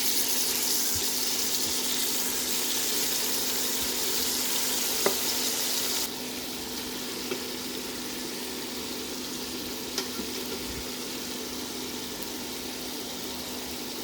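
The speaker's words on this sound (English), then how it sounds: "Fry 3 minutes on each side." Food frying in a cooking pot for arroz caldo rice soup gives a steady, close hiss of sizzling that drops to a softer, even level partway through and then keeps going, with a few faint clicks.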